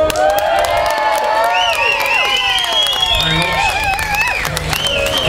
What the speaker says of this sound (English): I'd just like everybody to give a massive cheer for these three guys